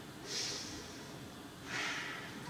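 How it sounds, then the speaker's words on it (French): Two slow, deep breaths during a yoga class, each a soft airy rush, heard close and fairly quiet against faint room tone. "2 autres grosses respirations."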